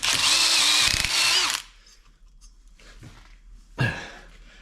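A power drill with a wire brush whirs loudly for about a second and a half, stops, then starts again in a brief burst near the end, with quiet scraping in between.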